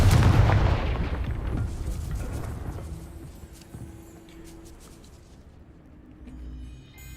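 In the Hogwarts Legacy video game, a Confringo blasting spell goes off as a loud explosive blast at the start, then a rumbling tail slowly dies away into quieter background game sound, with no talking.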